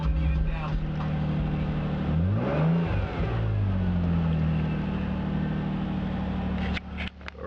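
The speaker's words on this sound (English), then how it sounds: "start the car, let the oil warm up a little bit" A Nissan Maxima engine idles steadily while warming up, a constant low hum with a brief rise in pitch like a short rev, then a few clicks near the end.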